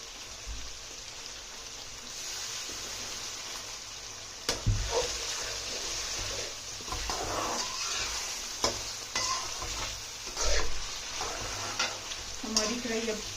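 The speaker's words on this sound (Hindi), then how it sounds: "इसके अंदर आप थोड़ा सा हम पानी डालेंगे।" Charsi chicken karahi fries in a wok with cumin. Water splashes in with a sudden hiss, then steady sizzling follows, broken by scraping stirs close by.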